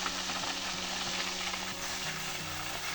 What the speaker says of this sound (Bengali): তারপর পেঁয়াজ কুচি, কেটে রাখা পেঁয়াজ কুচি, কাঁচা লঙ্কা তার সঙ্গে একটু ভেজে নেব।